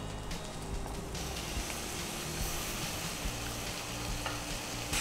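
Grated coconut and boiled vegetables frying in oil in a pan, giving a continuous close sizzle with occasional scraping stirs and no talking.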